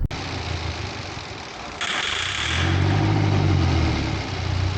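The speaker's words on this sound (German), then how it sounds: "indem sie Bremsenreiniger direkt in den Luftschlauch vom Motor reinsprühen, um den Motor somit zu starten" A motorhome engine is coaxed to start with brake cleaner sprayed directly into the intake hose: after a sharp first burst, a hiss cuts in, then the engine catches and runs with a low, steady idle and slight revving.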